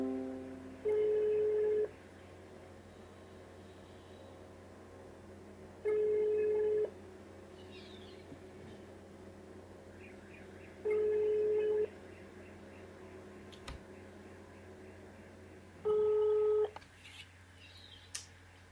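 An outgoing phone call rings unanswered, the ringback tone sounding four times at even intervals of about five seconds, each tone a steady buzz over a quiet line hum, with no one picking up.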